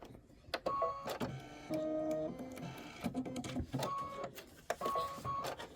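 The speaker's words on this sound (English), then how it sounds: "it's going to stitch some fun detail on your cone" An embroidery machine stitches crisscross detail onto a cone design, giving a close, steady mechanical whir with repeating needle rattles and short bursts of motor tone that stop and restart.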